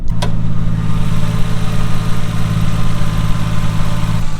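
A Toyota Supra turbo engine idles steadily under an open hood, a smooth, even low hum that holds at a constant level throughout, with a brief start-up blip at the beginning and no one talking.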